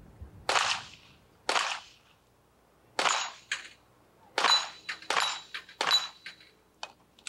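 Gunfire at a 1994 sportsman's team shooting competition: about nine sharp shots in an uneven rhythm, some spaced about a second apart and others closer together, ringing out clearly against a quiet outdoor background with no talking.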